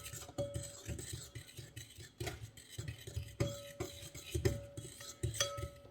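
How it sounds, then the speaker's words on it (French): Crème fraîche and eggs whisked together in a bowl, with quiet repeated clinks and scraping strokes of a utensil against the dish in an uneven rhythm, close and faint, with no voices. "Si vous pouvez commencer à mélanger la crème fraîche et les œufs."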